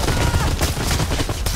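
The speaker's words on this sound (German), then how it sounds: "Er versucht die ganze Zeit mit dem Ding hier zu schießen" Dense rapid gunfire from an enemy in the shooter game Predator: Hunting Grounds, a loud continuous burst of overlapping shots lasting the whole moment, with a background mix of game noise.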